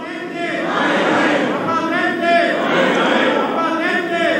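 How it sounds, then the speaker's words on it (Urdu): A crowd in a parliament chamber chants slogans in loud, rhythmic waves of massed voices, with a rising and falling shouted cadence that continues throughout. "order in the house please, نعرے بازی نہ کی جائے"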